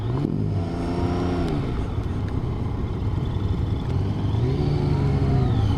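A Yamaha XSR900 motorcycle engine revs loudly while riding, pitch climbing, dipping and climbing again over steady wind and road noise.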